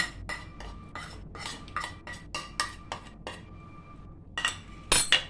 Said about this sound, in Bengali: এগুলো সব একবারে আমরা মিক্সচার জারে দিয়ে দিচ্ছি